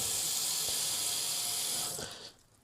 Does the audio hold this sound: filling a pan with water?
yes